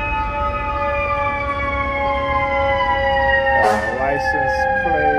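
An undercover NYPD vehicle sounds a loud, steady, wailing siren close by, with a brief burst of voice or noise near the end over the continuous tone.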